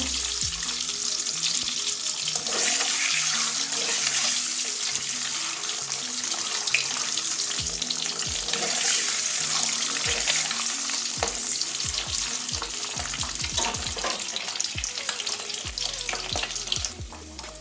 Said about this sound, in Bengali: ডিমটা এরকম লাল লাল করে ভেজে নেবো